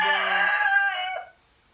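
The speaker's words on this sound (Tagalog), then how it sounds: "sumasang-ayon ang aking mga manok" A rooster crows once, close and loud, its strained call rising and then trailing off into quiet.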